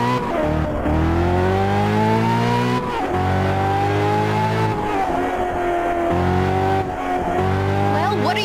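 Engine of a car accelerating in the racing video game Test Drive Unlimited 2, loud and steady with rising revs repeatedly climbing through gear changes, with brief tire squeal, heard alone throughout.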